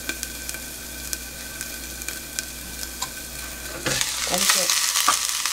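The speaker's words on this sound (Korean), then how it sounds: "뚜껑을 덮어서요 나물을 살짝 데워줄게요" Leftover namul warming in hot oil inside an earthenware pot, faint crackles at first, then a louder burst of sizzling near the end, with a brief spoken word.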